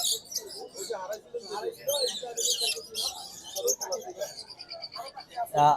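Many caged birds at a bird market chirp and tweet in quick, overlapping bursts, with voices talking nearby among the calls.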